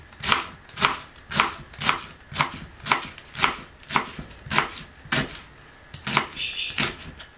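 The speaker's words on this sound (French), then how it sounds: "on va émincer l'oignon et le poireau" A knife chops onion and leek on a cutting board in a steady rhythm of sharp, close knocks, about one or two per second, with no voices.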